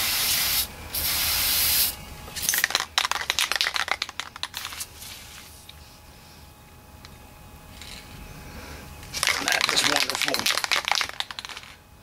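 Aerosol cleaner sprayed onto a crusty, dirty KLR 650 motorcycle air filter, giving two long, loud hissing bursts at the start and end with softer rubbing and handling noises between.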